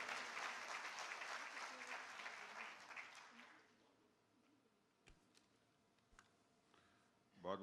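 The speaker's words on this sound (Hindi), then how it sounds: "जोरदार तालियां देश के माननीय रक्षा मंत्री जी के लिए।" An audience in a college hall in Delhi applauds loudly and steadily for several seconds, then the clapping thins out into a few scattered claps and small sounds in a quiet room.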